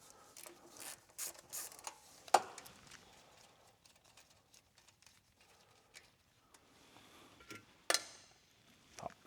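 A ratchet wrench on a 10 mm nut, loosening the starter signal wire on a Ford Mustang S550, gives scattered clicks and mechanical rattles, with two sharper metallic clanks among quieter taps.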